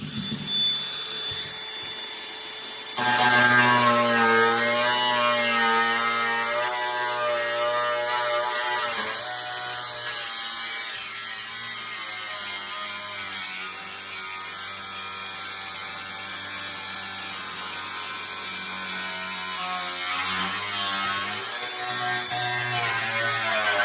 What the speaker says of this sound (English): we're just going to cut across the top of the line and get our first line cut. I use a cutting wheel.